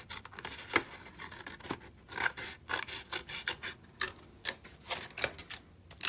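Scissors snip through a cardboard gift card box insert in a quick run of close, crisp cuts with short pauses between strokes, and no voices.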